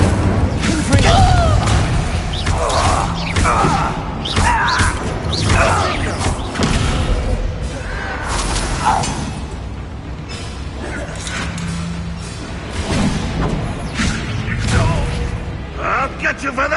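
Incendio fire spell blasts in the video game Hogwarts Legacy, repeated loud whooshing bursts and thuds amid clattering battle effects, with occasional voices over the dense combat noise.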